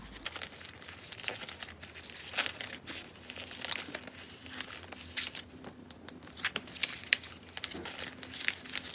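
Daiso sticker sheets are stacked and slid into a binder, giving close, quiet crinkling and rustling of plastic and paper with scattered sharper crackles throughout.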